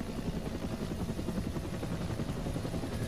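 An AH-1W Cobra attack helicopter in the Arma 2 video game drones with a loud, steady rotor and engine roar, a continuous thick rumble that stays level throughout with no voices.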